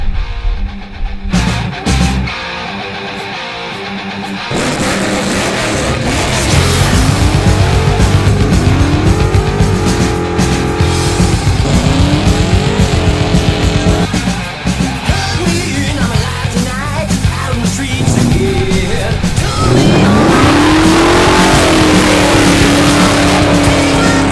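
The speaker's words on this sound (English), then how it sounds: "I'm gonna lend a hand with about 750 horsepower worth of American Big Block" A car with a roughly 750 hp American big-block engine revs hard and loud for a long stretch, with repeated rising engine sweeps, tires squealing and skidding, and no talking.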